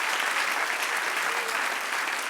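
A church congregation applauding, a dense, even wash of many hands clapping at moderate volume, sustained without a break and heard alone.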